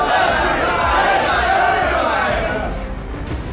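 A large crowd shouts together at a passion play, a dense, sustained roar of many voices up close that slowly eases toward the end.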